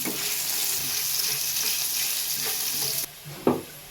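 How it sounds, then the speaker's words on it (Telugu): Thin-sliced green chillies frying in hot oil for mutton dum biryani, a steady loud sizzle with light stirring, then a sudden drop in hiss and a single clunk near the end. "అలాగే ఒక 2 పచ్చిమిరకాయలు ఇలా సన్నగా బారుగా కట్ చేసుకొని వేస్తున్నామండి. ఇప్పుడు దీన్ని కూడా కొంచెం ఫ్రై చేద్దాం."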